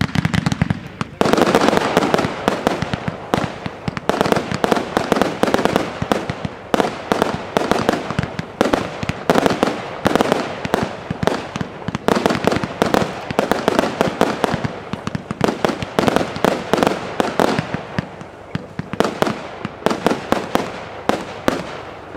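A Vuurwerk Totaal White Red Rebel firework product is fired from three positions in a professional display, delivering a loud, dense, continuous barrage of rapid crackling bangs that keeps up throughout, with a presenter's voice faintly beneath.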